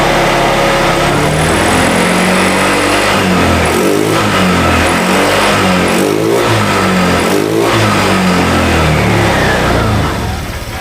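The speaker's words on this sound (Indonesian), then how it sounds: "Motornya hidup. Setelah hidup saya akan coba gas." A 125/150 automatic scooter engine runs close and loud, revving repeatedly in rising and falling pulses before easing off at the end, with no talking.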